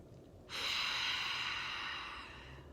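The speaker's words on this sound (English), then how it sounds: "let's take a deep breath anyways" A single deep breath drawn in sharply and held as a long airy exhale, close and soft in a quiet room.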